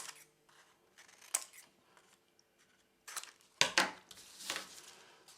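Scissors snip through paper while cutting gluing tabs and an arch for a Valentine pop-up card, a few crisp separate cuts with rustling paper between them, close and quiet.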